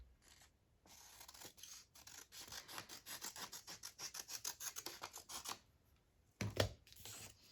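Scissors snipping through paper while making Christmas journal cards, a quick run of close, crisp cuts in a steady rhythm, then a pause and one louder snip near the end.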